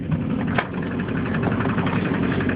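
A 1990 Volvo 760 Turbo idles steadily after a cold start at 6 degrees in deep snow, a continuous close engine rumble with a slightly uneven beat from poor timing and no one speaking.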